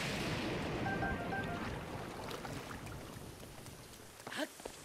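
Thunderstorm rain in The Legend of Zelda Breath of the Wild, a soft, steady hiss of rainfall that thins slightly over time, with a few faint taps and splashes near the end.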